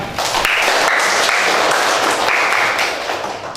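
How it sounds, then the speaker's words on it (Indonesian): Applause from a classroom of students fills the room, a dense, steady patter of many hands clapping close by for several seconds before thinning slightly at the end. "Oke, tepuk tangan."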